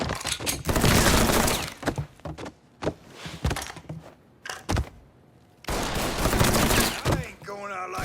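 Gunfire in the video game Mafia III comes in rapid bursts of sharp, loud shots separated by short pauses, with a heavy sustained volley near the end.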